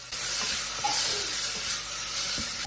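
Chopped tomato sautéing in a pan while making horse gram rasam, a steady bright sizzle and hiss that holds evenly throughout with faint stirring taps underneath.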